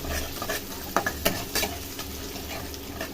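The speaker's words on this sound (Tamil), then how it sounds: "இப்போ பூண்டு போட்டு வதக்கிடுங்க" Garlic and onion sautéing in a pan, a low continuous sizzle broken by several quick scraping strokes of a spoon, close and moderate.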